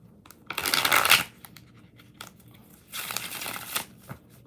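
Tarot cards are shuffled close by in two quick crisp bursts of riffling and flapping, separated by a short quiet pause.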